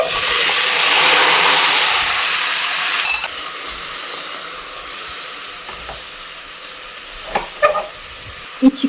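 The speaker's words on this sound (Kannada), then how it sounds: "ಇವಾಗ ಇದಕ್ಕೆ ಸಪ್ರೇಟ್ ಮಾಡ್ಕೊಂಡಿರುವಂಥ ಚಿಕನ್ ಹಾಕೊಳ್ತಿದ್ದೀನಿ" Steady, broad sizzling of chicken frying in hot oil after onions, loud at first then settling lower, with a few sharp clinks and stirring scrapes near the end.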